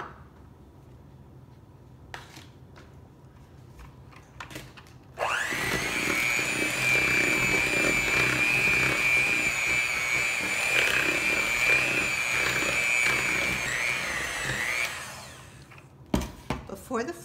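An electric mixer whirs loudly and steadily for about ten seconds as it beats chocolate chip cookie dough with flour and vanilla, starting abruptly and winding down to a quiet room with a few small knocks.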